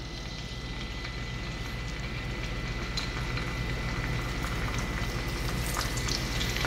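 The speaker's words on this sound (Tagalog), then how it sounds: "ato rin hinay prito atong beef" Steady, loud sizzling of beef frying in a hot pan for Filipino bistek, a continuous crackling hiss with no voices.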